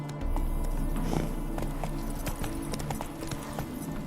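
Roach, the horse in The Witcher 3 game, hooves clip-clopping at a steady trot, loud and close throughout over a constant low game ambience.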